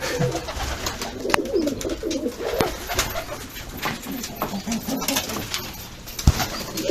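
Shortface pigeons coo inside a coop, soft repeated rolling calls overlapping close by, with a few sharp knocks and rustles among them and no talking.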